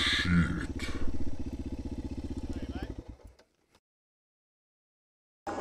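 Dirt bike engine revving and clattering loudly up close for about three seconds, then cutting out into silence before a brief burst of sound returns at the end.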